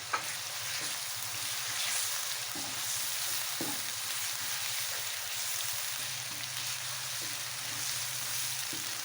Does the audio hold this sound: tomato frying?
yes